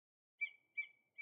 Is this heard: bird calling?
yes